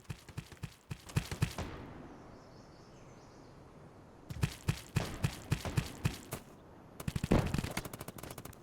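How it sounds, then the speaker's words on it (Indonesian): Rapid bursts of automatic gunfire in the game Delta Force Mobile, three volleys separated by quieter gaps, sharp and close. "Sampai aku ngedengar suara tembakan di depan"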